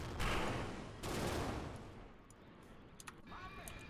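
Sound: gunfire shots from an aircraft in the video game BeamNG Drive

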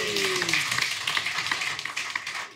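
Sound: pub audience cheering and applauding at live podcast

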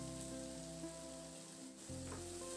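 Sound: pointed gourd paste frying in oil

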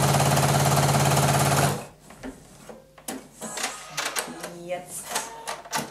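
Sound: sewing machine stitching a stretch fabric dress

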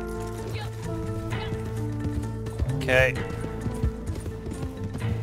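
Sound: horse hooves clip-clopping, from a video game

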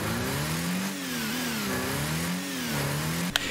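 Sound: car engine in Rocket League video game

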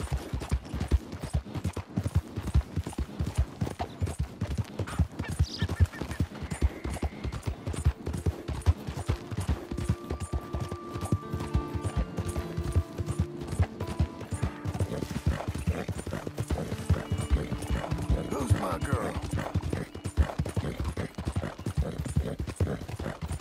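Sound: horse in the video game Red Dead Redemption 2

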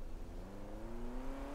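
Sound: car approaching

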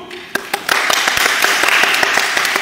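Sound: applause

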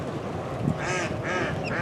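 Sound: ducks quacking

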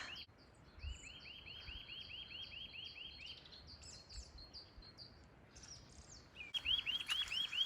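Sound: birds singing on a mountain

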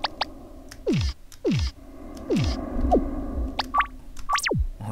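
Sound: Ao Oni video game sound of trying an unusable item

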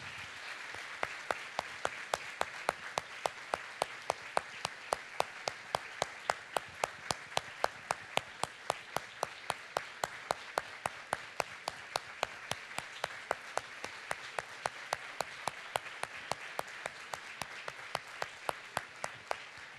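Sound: audience applauding the mothers

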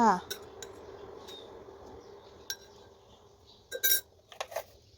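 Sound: spoon stirring butterfly pea flower drink

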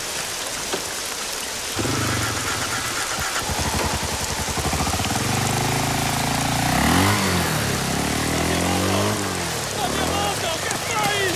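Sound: motorcycle engine riding away

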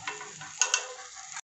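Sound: gingelly oil sizzling around bottle gourd adai in pan

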